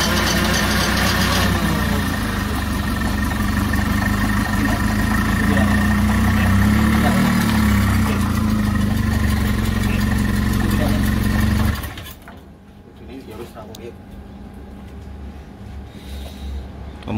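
A 1974 Toyota Corolla KE20 barn find, stored fourteen years in a garage, runs close by with a loud, rough, steady idle that swells with revs before cutting off abruptly, leaving quiet background.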